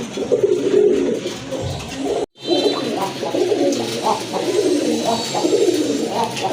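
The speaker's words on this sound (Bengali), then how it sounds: "এটা হচ্ছে আপনার রাজগোল্লা কবুতর সাদা কবুতর" White Rajgolla pigeons coo steadily in low, throaty murmurs, several birds overlapping, with a brief cut of silence partway through and continuous crowded chatter underneath.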